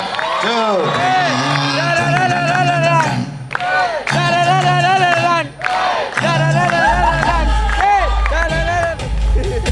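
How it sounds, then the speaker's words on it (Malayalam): An audience claps and sings along to the Vikram Vedha background theme, loud and sustained, with crowd voices carrying the melody over a heavy, steady clapping beat. "അപ്പോൾ ഒന്ന് കൈയടിച്ച് നമുക്ക് ആ ബീജിയം ഒന്ന് പാടാം"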